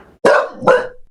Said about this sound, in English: a white dog